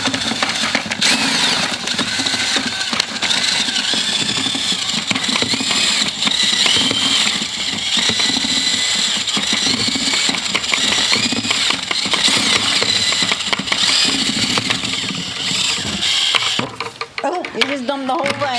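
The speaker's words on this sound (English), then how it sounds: "Now we just use a paddle mixer." A drill-driven paddle mixer churns plaster for a Victorian house, its motor whining steadily and loudly for most of the time before cutting out near the end, with people talking over it.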